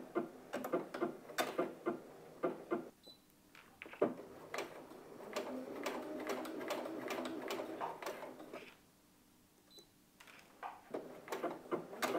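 A Brother sewing machine stitching on its own while mending trousers, rapid close ticking and clattering needle strokes in bursts, a steadier hum in the middle, a short pause, then renewed rhythmic stitching.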